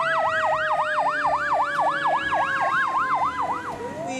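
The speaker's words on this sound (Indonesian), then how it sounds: "mobil ambulans" Toy ambulance, blue, sounding its electronic siren: a rapid, steady wail that sweeps up and down in regular cycles, loud and close, running almost the whole time before it cuts off.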